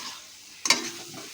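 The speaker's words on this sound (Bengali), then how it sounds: "এবার পুরো মিশ্রণটাকে ভালোভাবে কষবো আমরা, পুরো মশলাটাকে একসাথে" A spice mixture for an elephant foot yam and prawn dish is sautéed in a pan, a low sizzle broken by one quick, sharp spatula scrape in the middle of the brief stretch.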